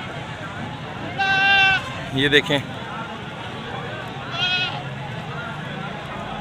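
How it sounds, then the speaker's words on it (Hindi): Goats bleat in short wavering cries while being unloaded at a busy livestock market in Pakistan, two clear calls close by over crowd noise, with someone talking briefly between them. "बकरे उतर रहे हैं।"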